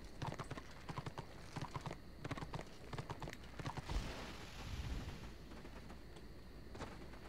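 Steady clip-clop of horse hooves at a trot in the video game Warhammer Online, evenly spaced beats over a low rumbling backdrop, with a couple of sharp thuds midway.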